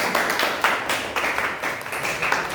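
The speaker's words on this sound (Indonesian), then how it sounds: "Tepuk tangan buat semuanya" Students in a classroom clap together in a short burst of applause, the claps fairly faint and brisk, with no talking over them.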